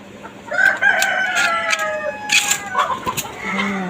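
A group of young, not-yet-laying chickens clucks and crows together in quick overlapping calls, loud and close, with a faint steady hum, likely a fan, behind.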